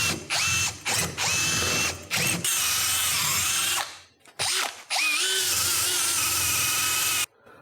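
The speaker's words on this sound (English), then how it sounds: "Now I'm going to clean the holes on here with this wire brush." Power-driven wire brush cleaning the holes of a Jeep WJ brake caliper, a series of loud, close whirring bursts that start and stop repeatedly with short gaps between them.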